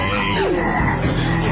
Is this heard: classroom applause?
no